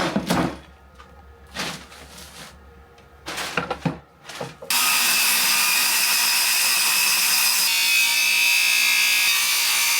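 Wood pieces for a podcast table cut to size with a power saw: a few short scraping bursts of sawing, then a loud, steady continuous cut that runs to the end.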